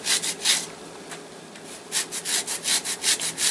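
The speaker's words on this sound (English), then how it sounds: "This little hand grater is awesome." A small hand grater zests thin mandarin orange peel in quick, close, rhythmic rasping strokes, a few at first and then a steady run of about eight strokes, with no speech.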